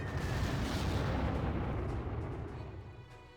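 Artillery fire against cavalry in a wargame video game, heard as a dense, heavy rumbling barrage that is loud at first and then slowly fades, with no talking.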